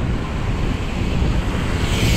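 Ocean waves breaking at the seaside in Da Nang, Vietnam, a steady broadband wash of surf with wind buffeting the microphone, loud and continuous throughout.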